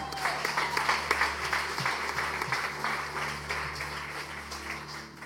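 A church congregation claps and cheers in acclaim of the Lord. The applause is steady and fairly distant and carries on throughout under a low sustained hum, with faint voices mixed in.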